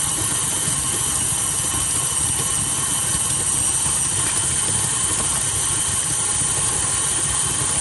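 An electric mixer runs on high speed, beating buttercream frosting in a bowl with a steady, loud whirring hum that holds constant throughout, with no talking.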